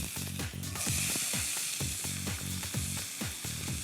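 Whole seeds sizzling and crackling steadily in hot oil in a home kitchen pan, with repeated low scraping strokes of a spoon stirring them at a regular pace, fairly close and loud.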